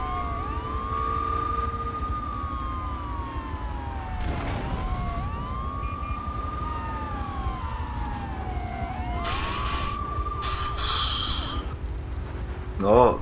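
Police car sirens wail in repeated rising and falling sweeps during a GTA 3 chase, several overlapping and moderately close over a constant engine and traffic rumble, with a brief crash-like burst near the end.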